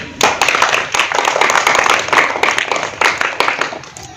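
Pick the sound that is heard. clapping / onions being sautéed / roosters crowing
clapping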